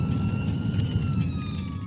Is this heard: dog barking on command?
no